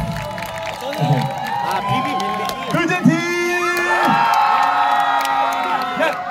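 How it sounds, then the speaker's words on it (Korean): Crowd at an autumn sports day event cheering and whooping for a team, with shouts and applause mixed under voices and a loud, continuous hall-like din throughout. "자 먼저 우리 아티팀 박수 한번 해주세요"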